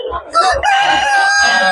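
A rooster crows once, loud and close, at a busy poultry market where geese and chickens are sold, with brief clucking and faint background noise before the drawn-out call.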